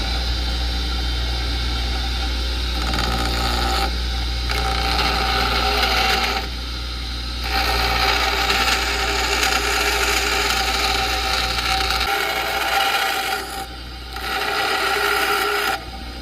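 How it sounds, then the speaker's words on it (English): A grinder with a broken on-off switch works a steel blade for a Saami-style knife, running with a steady whining drone that dips in several short breaks as the blade is lifted and pressed again. "I think I'm just going to bust out the grinder and do it quick and evenly"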